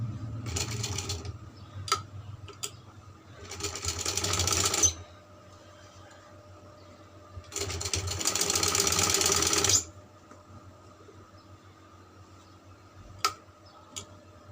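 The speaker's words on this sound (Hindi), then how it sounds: "तो इस तरह से हम इसकी भी सिलाई लगा लेते" A sewing machine stitches a frock hem in two bursts of steady rapid whirring, each a few seconds long, separated by quiet pauses with a few light clicks and ticks.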